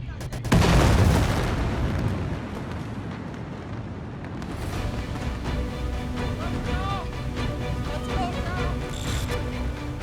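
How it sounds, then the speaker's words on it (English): A second huge blast at the Tianjin chemical warehouse, with a sudden booming detonation followed by a long rolling roar that slowly settles into a rumble, with distant voices and alarms faintly audible afterward. "there's another explosion"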